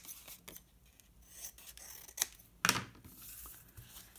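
Scissors cutting through pizza box cardboard, heard as quiet scraping snips spread over several seconds with a louder crunchy cut toward the end.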